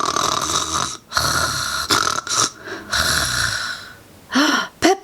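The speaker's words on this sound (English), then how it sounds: "Sounds of snoring fill the room." Loud, rasping snores come from someone fast asleep in a room, repeating in long rattling breaths with snorts and gasps between them, close and alone.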